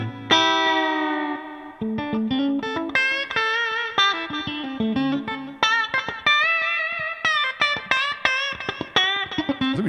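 An electric Stratocaster-style guitar in the 2 or 4 pickup position plays a clean, bright melodic phrase with chorus and effects, single notes and short bends ringing up close, with no talking.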